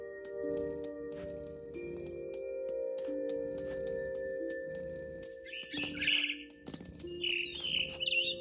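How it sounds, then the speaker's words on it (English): High bird chirps and tweets from the video game What Remains of Edith Finch, set in a big tree, breaking out in a few short bright bursts over a steady ambient music bed. "All I cared about was eating that mama bird."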